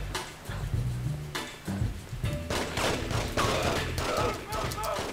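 Gunfire in The Getaway video game, several rapid bursts of shots and loud cracks spread through the clip, with a voice talking among them.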